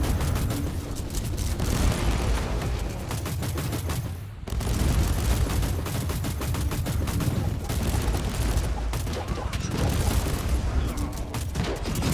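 Turrets fire in Warhammer 40K: Inquisitor – Martyr, a dense, continuous rattle of gunfire and blasts that runs loud for about twelve seconds and breaks off only once, briefly.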